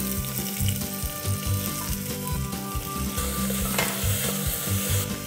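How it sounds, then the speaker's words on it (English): Sliced onions sauté in coconut oil inside a pressure cooker pot, giving a continuous close sizzle with rhythmic stirring knocks and scrapes, no voices. "Okay, the onions are nicely sauteed."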